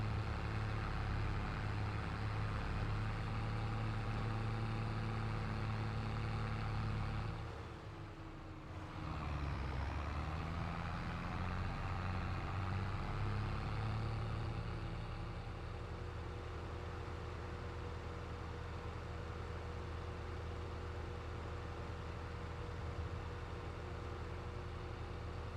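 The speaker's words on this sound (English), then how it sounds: "I don't mind tractor noises at all." A farm tractor engine idles steadily from inside the cab in the video game Farming Simulator 22, a low constant rumble with a brief dip partway through before it settles back to an even drone.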